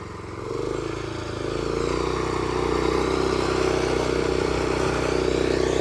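An old Japanese walk-behind tiller throwing soil in first gear, its small engine chugging steadily and close, building slightly in the first seconds, then holding an even mechanical drone throughout.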